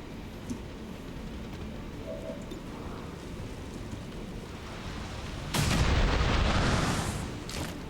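Explosions in the XCOM 2 strategy game, one loud burst near the end ringing out for about two seconds over a faint low rumble of background ambience.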